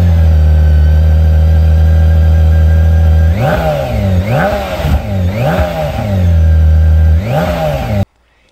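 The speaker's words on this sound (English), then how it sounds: "Every time you start up that K1600, you're greeted with a Formula One race car sound" A BMW K1600 GTL six-cylinder touring motorcycle idles steadily, then is revved loudly four or five times in sharp rising and falling sweeps close to the microphone before cutting off abruptly.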